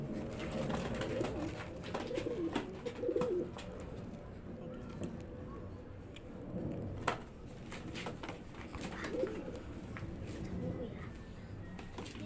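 Pigeons or doves just taken out of a box give low, repeated coos in several short bursts, with sporadic clicks and rustling, under occasional quiet talk nearby.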